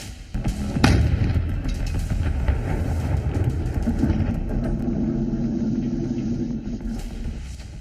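A sharp blast from railway bridges being blown up, followed by a deep rolling rumble that lingers for several seconds, loud and heavy in the low range with no speech.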